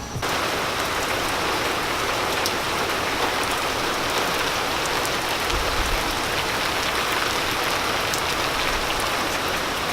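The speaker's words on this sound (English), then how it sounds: "they just started downpouring on us" Heavy rain pours down steadily, a dense, loud hiss of drops drumming on surfaces without pause for the whole stretch.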